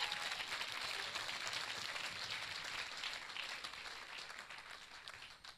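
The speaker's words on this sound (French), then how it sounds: "Ici, j'attendais un vrai applaudissement pour le Seigneur" An audience applauds the Lord at a Catholic charismatic gathering on faith and miracles, a broad, distant wash of clapping that swells and then slowly fades.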